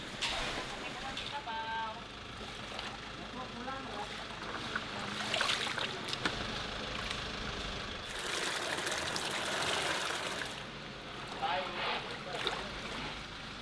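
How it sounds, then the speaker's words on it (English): Freshly picked coffee cherries being washed in big vats of water at a coffee mill near Lake Napalit, Bukidnon, with steady sloshing and trickling water, broadband splashes swelling in the middle, under occasional background voices. "We put the coffee into big vats filled with water to wash them"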